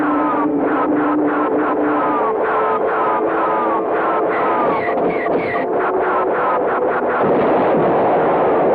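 Cannon fire in a cartoon space battle, a steady rapid run of sharp repeated blasts that fills the scene loudly, with a couple of brief pauses and whooshing effects mixed in.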